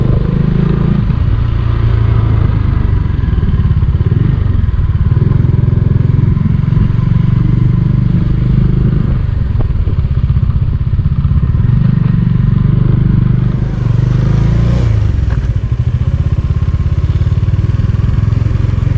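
A motorcycle rides slowly on a wet mountain road in Bhutan between Thimphu and Phuentsholing, its engine a loud, steady close drone with tyre and wind rumble throughout.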